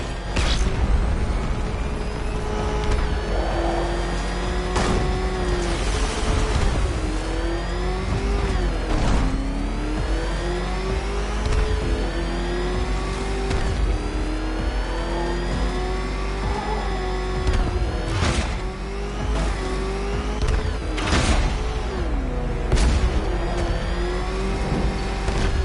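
The Batmobile in Batman Arkham Knight roars continuously, its engine revving up and down through repeated surges and gear changes, loud and close throughout with sharp transient bursts over the sustained drone.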